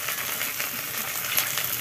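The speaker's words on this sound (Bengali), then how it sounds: "এইবার ভালো ভাজা, একটু ভাজা হয়ে যাবে" Oil sizzles steadily in a pan while frying for a Bengali-style egg and potato curry, a dense, even crackle with no breaks and no voices.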